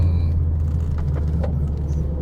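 A 2020 Mercedes CLA45 AMG driving in sport mode on twisting roads, heard as a steady, close low rumble of road and engine with a few faint higher crackles over it.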